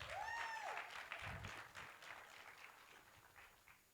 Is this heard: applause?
yes